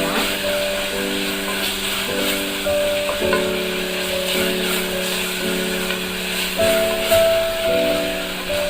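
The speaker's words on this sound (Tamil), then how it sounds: "இப்போ மசாலாவோட பச்சை வாசனை போகிற வரைக்கும் நல்லா வதக்கிக்கலாம்." Masala sautéing in a pan while cooking a mixed sprouts pulav, a steady close sizzle with scraping stir strokes, overlaid by a sustained tonal hum throughout.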